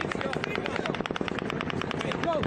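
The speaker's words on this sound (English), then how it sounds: "the 8th volley of automatic gunfire begins" Rapid bursts of automatic gunfire crackle in a dense, continuous volley, with shouting voices mixed in underneath.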